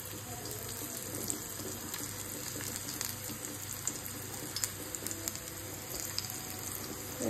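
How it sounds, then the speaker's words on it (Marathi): Alu vadi slices fry in oil over a medium flame, a steady close sizzle and fine crackle that runs continuously at a soft, even level with small pops scattered throughout. "आपल्याला गोल्डन ब्राऊन अशा फ्राय करायच्या मीडियम फ्लेमवर, म्हणजे त्या क्रिस्पी बनतील"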